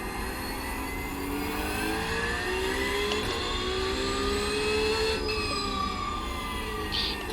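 Race car engine on a gentle out lap in a racing game, a steady mid-volume drone whose tone rises and falls smoothly as the car accelerates and eases off, with no voices.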